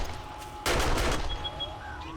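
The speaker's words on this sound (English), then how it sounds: "I hear gunfire." A short, dense burst of gunfire crackles in the zombie survival game 7 Days to Die, lasting about half a second before trailing off into quiet game ambience.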